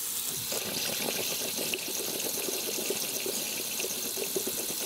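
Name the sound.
hot water running into sink drain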